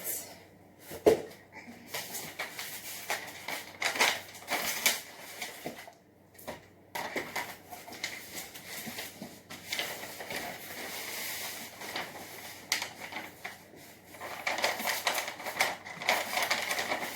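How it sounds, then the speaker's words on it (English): Sticky tape being pulled off a roll and wrapped around a cardboard armor piece for a homemade Minecraft costume, with close, repeated crackling rips and short pauses between them. "I'm going to wrap the armor piece first, and then the helmet."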